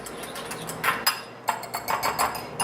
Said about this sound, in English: I'm going to go ahead and give this a good mix